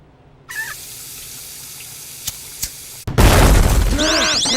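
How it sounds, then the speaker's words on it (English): A kitchen faucet is turned on and water gushes loudly into the sink, starting abruptly after a quieter stretch with a couple of faint clicks, with a rising whistling squeal over the rush. "turn on the faucet so no one will get suspicious"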